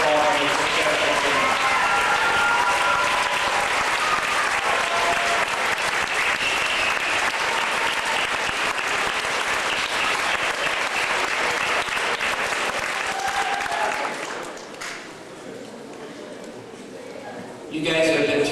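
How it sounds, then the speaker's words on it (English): A school audience stands and applauds a young walker who has just completed a walk, loud, dense clapping sustained for about fourteen seconds before tapering off, with a brief burst at the end. "please stand up and give him a round of applause for walking successfully"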